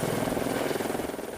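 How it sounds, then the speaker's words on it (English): Lake County Sheriff's helicopter in the air over a Chicago-area street operation, a steady, loud rotor thump with a rhythmic pulsing chop throughout. "air support from the Lake County Sheriff's helicopter."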